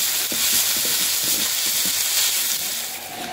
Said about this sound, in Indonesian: Sekarang baru nih kita goreng sambal.